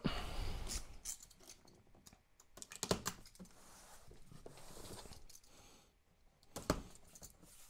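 Cardboard packaging for a Denon amplifier is opened up close, with scraping, tearing and crisp clicking taps in irregular bursts, some sharp louder knocks standing out over a quiet room.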